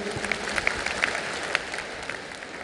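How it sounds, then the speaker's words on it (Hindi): An audience at a film festival opening ceremony applauds, producing a steady, moderately loud wash of clapping with a few sharper individual claps standing out. "एक बार जोरदार तालियां सर के लिए."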